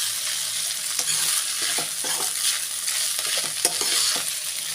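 Vegetables and egg noodles being tossed and mixed in a frying pan, giving a steady sizzle with repeated soft scraping and clacking strokes at a close, moderate level.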